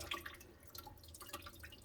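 Coolant draining from a 2014 Toyota Corolla during a thermostat replacement, a faint, close trickle with small irregular drips and splashes and no talking.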